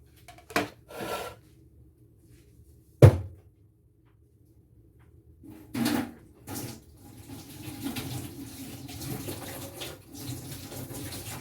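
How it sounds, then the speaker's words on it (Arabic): A detached range hood part is washed with Fairy dish soap under a kitchen tap, giving a few brief splashes and knocks before running water settles into a steady, moderately close flow. "وهنا زي ما انتوا شايفينه كده هغسله قدامكم بالفيري اهو."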